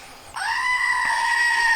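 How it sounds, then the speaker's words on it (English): A screaming goat novelty toy lets out a single loud, sustained, shrill bleating scream that starts suddenly and holds to the end, with no talking over it. "I got a screaming goat"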